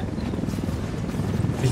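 A helicopter in the video game Ghost Recon Wildlands makes a steady low rotor drone that holds without a break.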